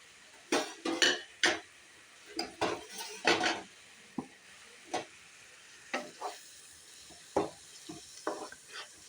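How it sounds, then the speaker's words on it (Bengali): Ground turmeric, chili, coriander and cumin frying in a pan for a mutton mince and eggplant bharta, heard as irregular bursts of close stirring and scraping with a faint sizzle between them. "এই মশলাগুলো গুঁড়ো মশলাগুলো দিয়ে দেবো হলুদ লঙ্কা ধনে জিরে"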